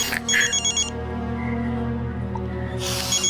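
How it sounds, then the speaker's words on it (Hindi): A telephone rings with a bright, repeating electronic tone over a steady low hum, the ring pausing briefly in the middle and resuming at the end. "डैडी का फोन है, मैं जरा बात कर लेता हूँ।"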